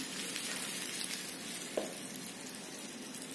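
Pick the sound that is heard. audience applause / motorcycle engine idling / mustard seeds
mustard seeds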